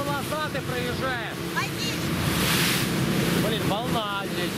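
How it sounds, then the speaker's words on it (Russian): Pacific surf and waves along the Kamchatka coast near a cape, heard while travelling past; a steady broadband wash with wind buffeting the microphone and people talking over it. "волна здесь, да"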